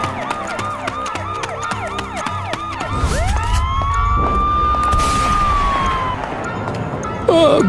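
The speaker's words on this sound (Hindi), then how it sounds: "गांव में पुलिस की गाड़ी का सायरन सुनाई देता है।" A police car siren wails in a village, first in rapid warbling cycles, then a long rising and falling tone over a rumbling engine, fairly close.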